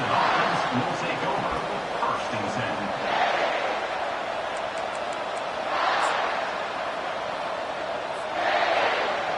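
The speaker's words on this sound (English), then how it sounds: "This crowd bringing an ear-splitting welcome to their visitors" A loud crowd at a South Carolina versus Clemson college football game roars in waves that swell and ease, while a commentator talks over the noise.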